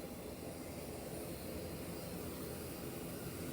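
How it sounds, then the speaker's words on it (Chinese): A parked propeller regional airliner on an open apron in Laos, its engine giving a faint, steady broadband roar and hiss with no voices. "飞机的引擎声挺吵闹的"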